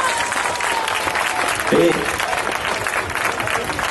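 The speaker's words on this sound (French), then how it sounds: "Allez, on l'applaudit encore une fois" Outdoor crowd at a children's TV tour show applauding a young girl singer, a steady bright clapping wash with a voice briefly speaking over it.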